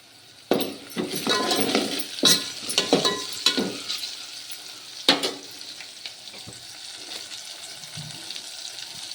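Onions sizzle and fry in a pan for upma in a home kitchen, with a steady sizzle and several sharp stirring scrapes and clatters close by, no talk.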